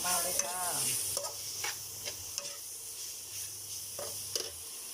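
Jackfruit is stir-fried with fish sauce in a pan, giving a close steady sizzle with repeated scraping stirs and light clicks of the utensil, no one speaking.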